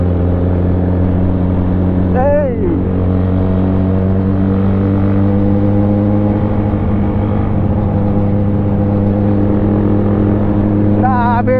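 A 1000cc motorcycle engine holds a loud, steady, deep humming drone close by. Brief voices cut in near the start and again at the end.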